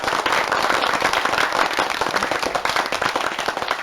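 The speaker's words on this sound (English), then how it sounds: "We can add the applause, for instance, or the clap effect if you want it." A canned applause and clapping effect fired from a pad on an Aten UC8000 podcast mixer: dense, steady crowd clapping that stays loud and even from start to finish, with no talking over it.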